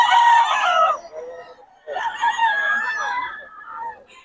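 A bullstag rooster at a Bocaue market crows loudly and close by, two long drawn-out calls separated by a short pause.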